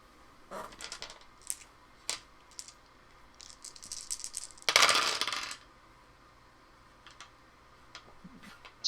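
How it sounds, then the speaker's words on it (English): Dice clatter onto a tabletop during a Vampire: The Masquerade tabletop role-playing session, sharp scattered clicks and rattles with one dense burst of tumbling dice near the middle and a few lighter taps around it. "It sounded like 2 or 3 dice."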